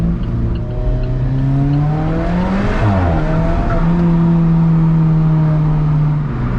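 An Alfa Romeo 4C's 1.75-litre turbocharged engine revs loudly and continuously, pitch rising and falling through a throaty, droning growl.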